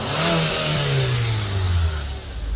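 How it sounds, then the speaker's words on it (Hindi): A Honda Accord engine revs hard with the throttle held open, its pitch sweeping steadily downward as the revs fall back toward idle, loud and close with no talk. "ये थ्रोटल है, तो सब लगा दिया, रेस मारो।"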